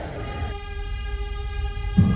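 R160 subway train in the Openbve train simulator game rolls into a station with a steady rumble, and its horn sounds one held, even blast for about a second and a half.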